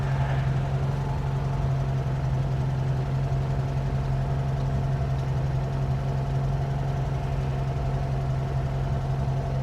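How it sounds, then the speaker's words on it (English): A 1966 Volkswagen Fastback engine idles steadily, a continuous low hum with a strong drone and even pulsing, close and loud, with no one talking. "I don't know if it's the engine making it sound like it's higher than it is"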